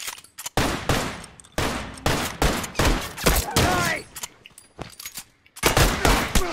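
Gunfire in The Last of Us multiplayer comes as sharp bursts of automatic fire and separate single shots in irregular clusters, loud and close, with brief gaps between.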